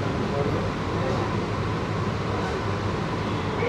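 Sealdah–Krishnanagar AC local train running at top speed, a steady, loud rumble and rattle of wheels and carriage that holds constant throughout without any clear break.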